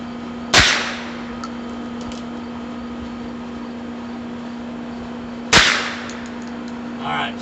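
Two sharp, loud revolver shots from a Heritage Rough Rider fired at a shotgun hull, spaced about five seconds apart, each with a short echoing decay over a steady low hum.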